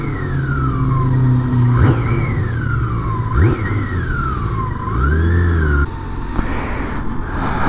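BMW motorcycle engine running near and loud, with repeated revs rising and falling in pitch over a steady rumble, no talk.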